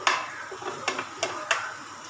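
Capsicum sautés briefly in a pan for Indian-style penne pasta, giving a soft, steady sizzle broken by a few sharp clicks of stirring against the pan.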